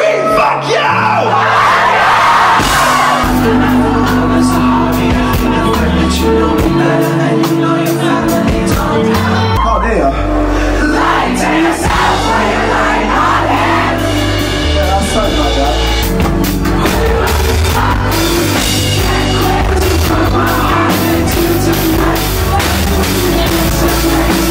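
A live concert crowd at Camden Assembly screams and yells loudly over pounding music, the dense, sustained roar of voices filling the room with no break.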